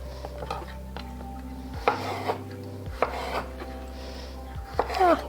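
A knife cuts through a chickpea socca on a board with a few separate crisp chops and scrapes, close by and moderately loud, with no talking.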